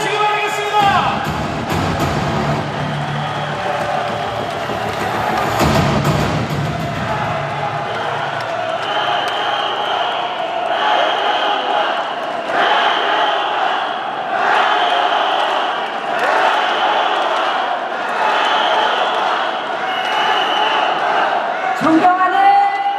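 A large crowd at a party convention rally in the Chungcheong region cheers and claps steadily to welcome a party leader candidate, a loud sustained roar with rhythmic swells throughout.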